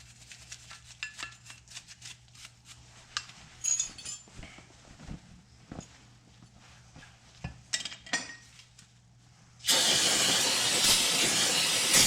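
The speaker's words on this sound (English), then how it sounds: "Use some brake cleaner and then just clean everything off." Brake cleaner sprays in a loud, steady hiss onto Toyota Camry front brake parts, starting abruptly after scattered metallic clinks and taps of parts and tools. The spray continues to the end, close and unbroken, with no talk.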